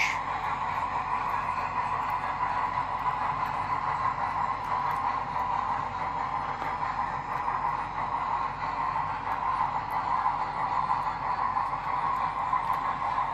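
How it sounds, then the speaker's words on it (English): Model train running through a home train room layout, producing a continuous, steady rolling rumble and hum at moderate level with no pauses. "Train runs across my workbench"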